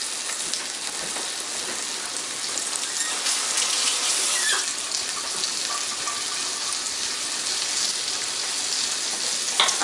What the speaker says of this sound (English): I'm turning on the water